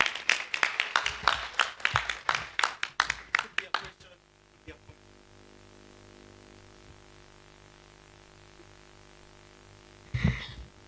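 An audience at an innovation competition breakout session claps together for about four seconds, dense and lively, then it drops to a quiet room hum before a short burst of noise near the end.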